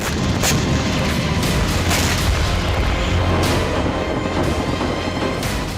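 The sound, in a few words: rocket strikes, explosions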